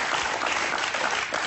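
A brief burst of audience applause, dense even clapping for just over a second at moderate loudness.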